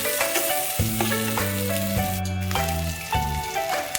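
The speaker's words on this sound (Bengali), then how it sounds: "ওই তেলেতেই আমি কালো জিরে ফোড়ন দিয়েছি দিয়ে এতে আমি পেঁয়াজ কুটে লাল লাল করে ভেজে নিচ্ছি" Chopped onions frying in oil with nigella seeds, a steady close sizzle over which a tonal background hum and a few light stirring clicks are heard.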